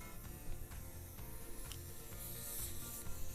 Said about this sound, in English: There, you can hear the air coming out there.